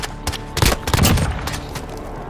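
Video game gunfire in Call of Duty: Modern Warfare, a short close burst of several loud shots and booming impacts, then a fading tail.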